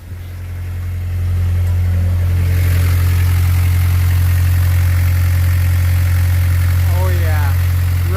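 A freshly rebuilt car engine, reinstalled and running away, settles into a steady loud idle with a deep low hum close by, while a person talks over it.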